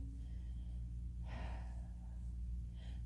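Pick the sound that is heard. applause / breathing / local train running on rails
breathing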